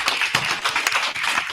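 A crowd applauds a panel of women at DragonCon 2023, dense, steady clapping filling the room throughout with a few sharper claps standing out.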